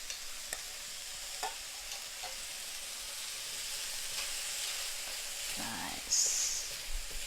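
Sauce poured into a wok of frying Kung Pao chicken with ginger and garlic gives a steady sizzle and hiss, with a few scraping stirs and a louder burst of sizzling near the end.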